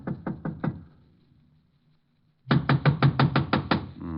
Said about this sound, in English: I'll give it a knock.